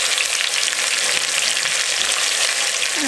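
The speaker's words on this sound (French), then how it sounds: "je vais faire dorer la viande une fois qu'elle a assaisonné, la cuve est bien chaude" Seasoned beef chuck browns in a hot pot, a loud, continuous close sizzle and crackle of frying meat with no talk.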